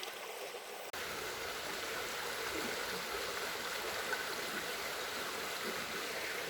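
A rainforest creek in Australia's Wet Tropics flows over large boulders, leaf detritus and open sand, making a steady, close, even rushing wash that starts abruptly and then continues without a break.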